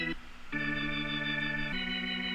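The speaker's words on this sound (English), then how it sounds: "Just an organ." A soloed organ sound from Kontakt holds sustained chords, changing twice over a couple of seconds, steady and full with no voices.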